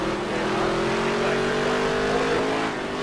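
Stock car racing engines in the NASCAR Heat 3 video game on a short oval track, a loud continuous drone of several cars running tightly together, with steady engine pitch held throughout.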